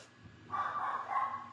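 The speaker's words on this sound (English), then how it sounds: "Excuse my dog barking at something across the road." A domestic dog barks at something across the road, a short burst of fairly close, excited yapping after a quiet start.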